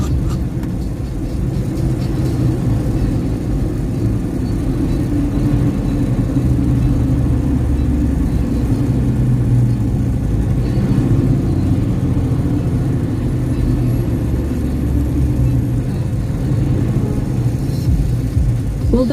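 A truck drives across grass, its engine giving a steady mid-pitched drone and whir with low rumble underneath, close and continuous throughout with no clear changes in speed.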